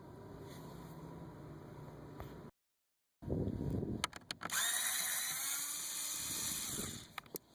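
A power screwdriver whirs in several short bursts close by while screws come out of the blower motor on a Scion xA/xB, with clicks and a pause between runs.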